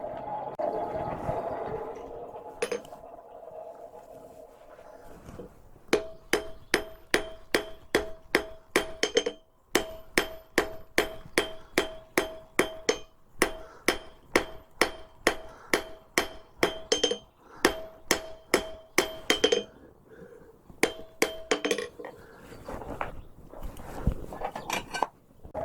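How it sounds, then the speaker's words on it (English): Blacksmith's forging hammer striking hot steel while forging railroad spike tongs, a long run of sharp, evenly spaced ringing blows at a steady rhythm, loud and close, with short pauses between bursts. "So I just will go back to my forging hammer."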